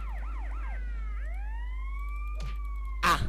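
A police siren in the video game GTA Vice City wails in rising and falling sweeps, then settles into a long sustained tone, followed by a brief clatter and a loud burst near the end.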